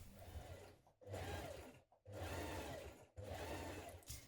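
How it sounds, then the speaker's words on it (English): A sewing machine stitches an 8mm seam along the interfaced welt area of a coat, four steady runs of whirring separated by brief pauses, close and clear with no talking. "you're going to stitch it in line with this line here with an 8mm seam"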